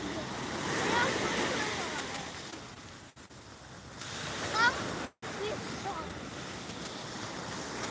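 Big sea waves roll onto a beach that lies half underwater, a continuous roaring wash of surf with gusty wind buffeting the microphone and people talking faintly nearby.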